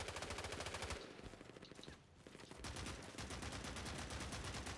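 Gunfire in the video game Hell Let Loose: Vietnam, with loud, rapid machine-gun bursts rattling almost nonstop, a brief lull in the middle, then more sustained automatic fire.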